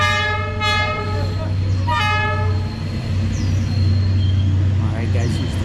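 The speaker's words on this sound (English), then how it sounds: "here's the train" A train rolls through a narrow Train Street in Hanoi's Old Quarter, sounding two loud, sustained horn blasts over a steady heavy rumble, with voices murmuring nearby.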